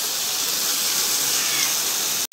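Paneer shallow fries in hot oil on a tawa, a loud continuous sizzling hiss that holds steady and then cuts off abruptly near the end.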